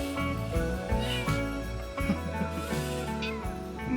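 A pet cat at a farmhouse under renovation meows several times, close and fairly clear, in drawn-out tonal calls.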